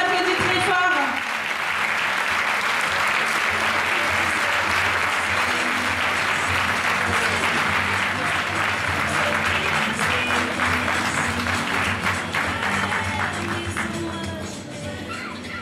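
A crowd at the Miss Ronde Poitou-Charentes 2013 pageant applauds the contestants, with loud, continuous clapping from many hands that holds steady and tapers slightly at the end. Voices murmur faintly beneath it.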